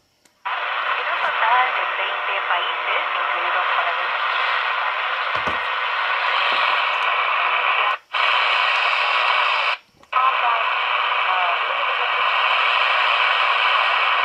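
Shortwave radio tuned across the busy 11 megahertz band at night, a steady hiss of static carrying a faint station beneath it, cut by two brief dropouts as the receiver steps between frequencies.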